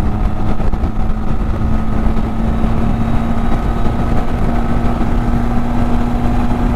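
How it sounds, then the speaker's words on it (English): A Benelli TRK 502 motorcycle engine pulls hard, a loud, dense, steady drone with a strong low buzz that holds constant throughout, heard close up with a rushing wind-like background. "The engine is way more active now."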